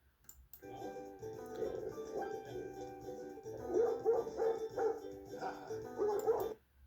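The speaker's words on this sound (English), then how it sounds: "This jealous dog is just barking." A jealous dog barks repeatedly in a kitchen, a run of sharp, close yips and whimpering barks in uneven bursts that grow louder toward the end.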